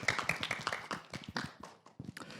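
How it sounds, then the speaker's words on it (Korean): Audience applause at an e-sports industry panel, with brisk, overlapping claps in a dense burst that thins out toward the end. Several sharp individual claps stand out near the start. "박수."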